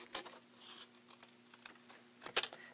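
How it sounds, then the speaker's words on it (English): Scissors cutting a strip of cardstock along a marked angle for a superhero treat bag: a few soft, crisp snips and paper rustles, close and quiet, ending in a sharper cut, with a low steady hum behind. "Now you could simply lay this on the other side and freehand cut it if you want so that you get an identical mark. And just cut it like so."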